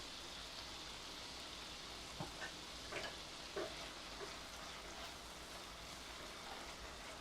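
Chopped onion and tomato with a pinch of salt cook in a pan with a soft, constant sizzle, broken by a few quiet knocks and scrapes of stirring.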